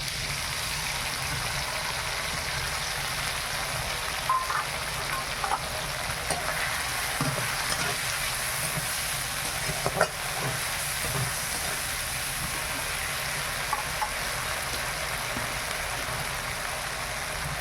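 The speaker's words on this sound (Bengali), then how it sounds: "আদা দিলে তো ছিটকাতে থাকে" Ginger fries in hot oil with a continuous close sizzle and scattered spattering pops and clicks, steady throughout with no speech.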